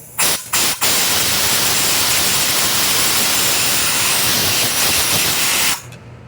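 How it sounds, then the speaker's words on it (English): Compressed air hisses loudly into the carburetor of a Homelite U126HBV blower vac, with a few short opening puffs followed by a steady blast of about five seconds. "I'm going to blow it out with air."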